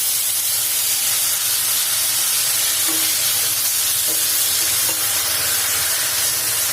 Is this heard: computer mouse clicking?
no